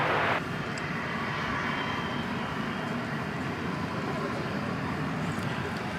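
An American Eagle airliner at DFW Airport gives a steady, loud jet engine roar as it prepares to take off, a continuous broadband rumble held throughout with no talk over it.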